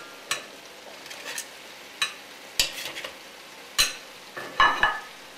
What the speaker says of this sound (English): now we're ready to add the beef oxtail back in